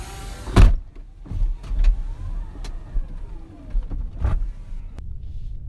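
A Tesla Model X P90D electric car pulls away with a low rumble and soft whine, punctuated by a few sharp thumps and knocks from inside the cabin, with no engine roar.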